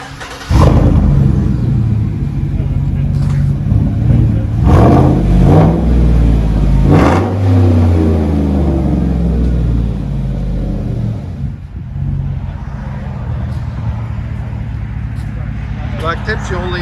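Chevy Silverado 6.0L V8 fitted with Dynomax Race Bullets exhaust, heard from inside the cab: a loud, deep rumbling drone that swells in repeated revs, then settles to a steady lower idle hum.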